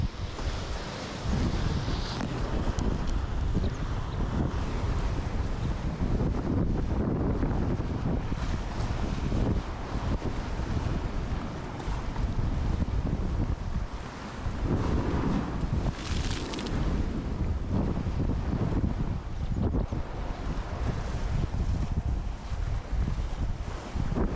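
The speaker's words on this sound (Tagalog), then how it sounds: "Ang lakas ng alon." Strong sea waves crash and roar alongside gusting wind buffeting the microphone at a seaside boulevard in Amlan, Negros Oriental, Philippines, a dense, loud, continuous wash with surging swells.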